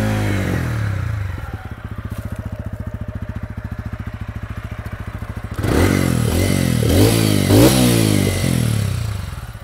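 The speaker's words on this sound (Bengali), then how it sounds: "তোমাদের এক্সজস্ট সাউন্ডটা একবার শুনিয়ে দিই" A 2025 TVS Ronin OBD2B motorcycle idles with a steady, rapid exhaust thump, then the rider blips the throttle several times, sending the engine into loud, rising revs that fall back between each burst.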